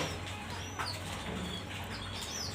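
Pet pigeon with its pair of newly hatched babies, giving soft cooing and wing-rustling sounds over a steady low hum, close and continuous with no talking.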